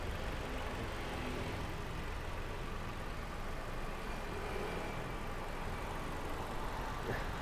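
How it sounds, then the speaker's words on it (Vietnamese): A 2015 Hyundai Santa Fe 4x4 idles with a steady, smooth, even engine drone, faint and continuous throughout with no revving. "Cái động cơ nó nổ rất là êm"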